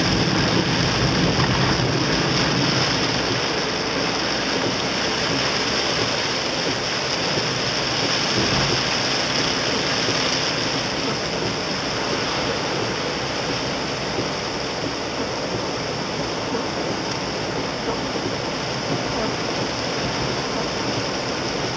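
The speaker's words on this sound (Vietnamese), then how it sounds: "Con nhìn thấy thác này, thác nước này." Steady roar of a waterfall at Cirque de Salazie on Réunion, a dense broadband rush of falling water that holds constant throughout with no voices.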